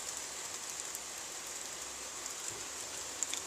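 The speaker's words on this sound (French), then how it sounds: "La pluie qui est modérée pour le moment" Moderate rain falling steadily during a thunderstorm in Carpentras, a soft continuous hiss with scattered drop impacts at middle distance and no voices.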